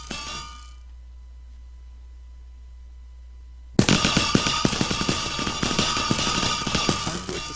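Explosions from anvils a filler keeps placing in modded Minecraft: quiet at first, then a sudden loud burst of rapid, cracking blasts that continue densely to the end.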